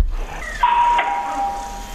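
A hammer-type doorbell rings indoors with a single sharp struck tone that rings out and slowly fades, loud and close, with no voices over it.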